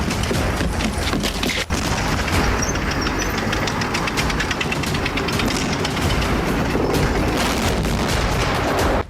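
Panzerfaust firing and gunfire effects from a World War II tabletop wargame battle between German and Soviet forces, with an anti-tank shot at a KV-2 tank; dense, continuous rattling fire and booms fill the whole stretch without any talking.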